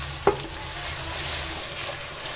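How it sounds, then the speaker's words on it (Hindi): Garlic ginger paste sizzles steadily in a hot pan as it is stir-fried, with a soft clink of a utensil near the start and an even frying hiss throughout. "अब इसमें मैं लहसुन अदरक का पेस्ट शामिल करूँगी और इसको 3 से 4 मिनट भूनेंगे"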